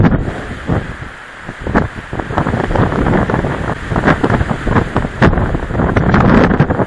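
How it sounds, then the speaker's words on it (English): Gusty wind buffets an outdoor microphone in a steady low roar, with sharper blasts swelling and fading over several seconds while resin is being applied to a long windshield chip line. "Sorry about the wind, guys."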